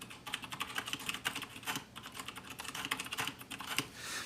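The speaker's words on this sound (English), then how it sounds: "let's just do a quick typing test." Steady close-up typing on a budget 1stplayer Steampunk mechanical keyboard with switches similar to Cherry MX Black, producing a fast, even run of soft clacking keystrokes with no voices.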